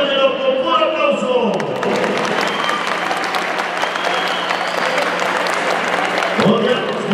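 Crowd applause fills a university tournament hall in Morelia's pavilion, a dense sustained roar of clapping that runs steadily for several seconds, with cheering and voices mixed in.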